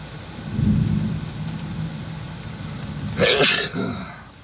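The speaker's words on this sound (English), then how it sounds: "sneezed all day and now I can't quit." A single sharp sneeze bursts out near the end, loud and close, over a low steady hum and background rumble.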